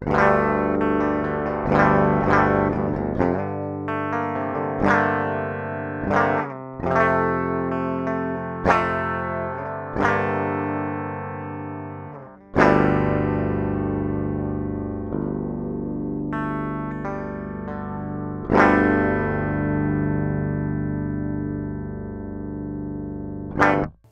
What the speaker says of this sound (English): I thought I would be able to show you some DI tracks from this guitar